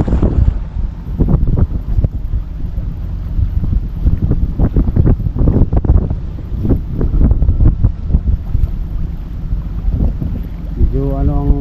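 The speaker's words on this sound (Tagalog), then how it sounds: "lakas ng hangin" Strong wind buffets a small fishing boat at sea, loud gusty roaring and rumbling against the hull and microphone, continuous and close with uneven surges throughout.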